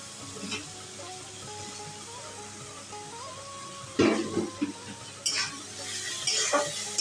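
Tomato goes into a spice paste frying for chicken do pyaza, a quiet sizzle giving way to louder bursts of frying and spoon clatter against the pan.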